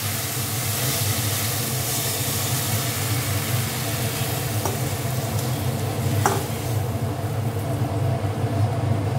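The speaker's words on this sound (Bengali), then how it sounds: "এবার ডালটা ঢেলে দিচ্ছে মা।" Mung dal hits a hot pan with a fish head and sizzles steadily, a loud, close, continuous hiss and bubble, with no talking.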